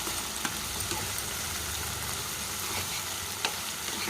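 Masala for a prawn and raw mango curry sizzles steadily in a pan, a dense even hiss with occasional sharp pops and faint stirring scrapes.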